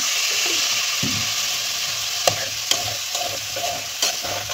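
Kohlrabi curry is stir-fried with a little water, giving a loud, steady hiss of sizzling broken by a few sharp spoon scrapes and clacks against the pan, with no talking.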